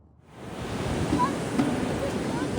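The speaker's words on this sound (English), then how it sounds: "watching the waves roll in" Ocean waves rolling in on a beach along Florida's Space Coast, a broad steady surf wash rising from silence within the first half second and holding loud and close, with some wind noise.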